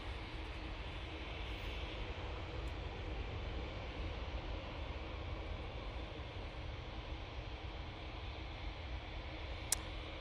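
An EasyJet Airbus A320ceo jet departing for Catania makes a faint, distant, even roar that stays level from start to finish, with no voices.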